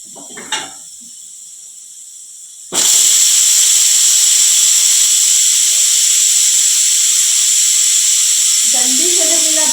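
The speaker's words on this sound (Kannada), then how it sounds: "ಈ ಕುಕ್ಕರ್ ವಿಜಿಲ್ ತೆಗೆದಾಗೈತಿ." Pressure cooker in a home kitchen releasing steam, a sudden loud, sustained hissing whistle that cuts in after a quieter start and holds steadily to the end, with faint clatter near the close.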